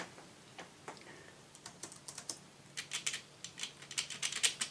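Typing on the keyboard of a Chuwi LapBook 12.3 laptop, quick irregular clicky keystrokes, quiet and close, growing busier and denser toward the end.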